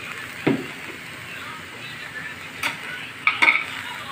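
Squash and string beans cooking for adobong gulay sizzle steadily as soy sauce is added, with a few clacks and scrapes of stirring against the pan and no speech over it.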